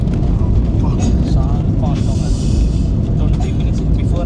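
An Air India airplane touches down at Delhi after a flight from Srinagar, with a loud, constant engine and rolling roar heard from inside the cabin while people talk over it.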